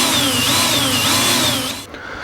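Power drill boring into a wooden wall stud during a bathroom remodel, one loud steady whine close by that runs for nearly two seconds and then cuts off.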